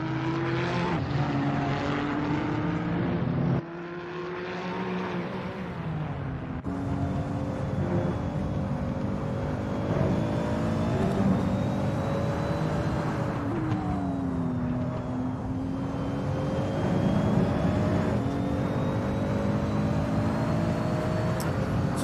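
A Nissan race car in the Assetto Corsa game at Monza runs a sustained, loud engine note with rising and falling pitch as it shifts and accelerates, steady and alone without talk.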